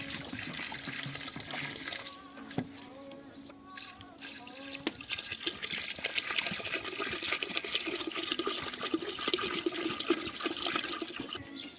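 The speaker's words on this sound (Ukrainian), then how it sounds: "Так, додаємо води." Water pours and splashes steadily into a cauldron for cooking soup for several seconds, with a few clinks and a faint tone early on.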